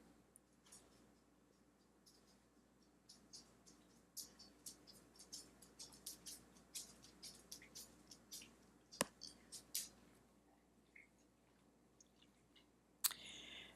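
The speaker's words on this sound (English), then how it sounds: "If you hear that slurping in the background, again, those are my dogs being very hungry." Faint wet smacking and lapping sounds in irregular bursts, dogs hungrily eating or slurping somewhere in the room, quiet and sporadic.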